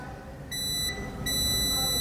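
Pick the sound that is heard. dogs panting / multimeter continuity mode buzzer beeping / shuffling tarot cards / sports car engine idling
multimeter continuity mode buzzer beeping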